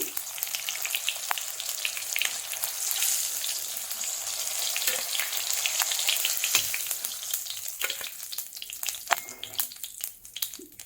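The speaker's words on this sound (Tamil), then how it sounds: "தக்காளியுடைய தோலை எடுக்கிறதுக்கு வேண்டி தான் நான் இதில் ஃப்ரை பண்ணுறேன்" Tomatoes fry in a pan to loosen their skins, giving a steady, close crackling sizzle with scattered sharp pops throughout. The sound is dense and continuous, with no talking.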